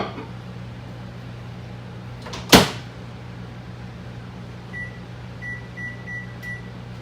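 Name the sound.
microwave oven running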